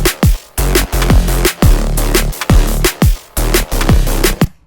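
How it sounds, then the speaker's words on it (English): Unprocessed drum and bass synth bass line, a loud, steady riff of repeated low sustained notes punctuated by sharp pitch-dropping drum hits in a driving rhythm, with no talk. "we're basically going to turn this bass line, which sounds like this"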